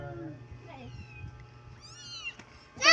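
A skinny roaming cat gives a few clear, close meows, a short one up front and a longer rising-falling one later, over a low background hum and ending with a sudden louder clatter.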